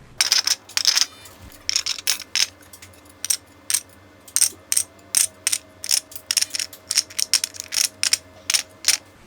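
Metal ratchet-wrench sockets set one after another into a 3D-printed plastic storage holder, giving a steady series of sharp, close clacks and clicks with short pauses between them.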